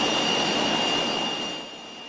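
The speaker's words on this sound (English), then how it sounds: "we're going to turn the engine noise down quite a bit" Steady, broadband roar of a Learjet 35A jet engine in Microsoft Flight Simulator, heard from outside the aircraft, with a high whine riding on top; the level holds, then drops off toward the end.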